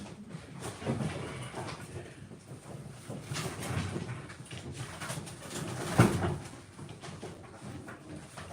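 Pigeons at a loft or stand give low, soft cooing over a steady background hum, with shuffling and a brief knock partway through.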